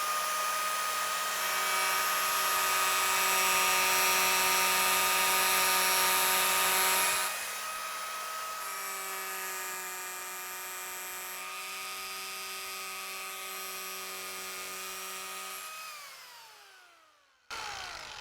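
A handheld power carving tool for whittling wood runs with a steady high-pitched whine, dropping slightly in pitch partway through before winding down near the end, fairly quiet and with no talking.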